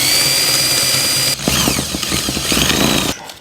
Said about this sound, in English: So now we drill the hole.